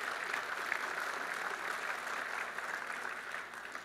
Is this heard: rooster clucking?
no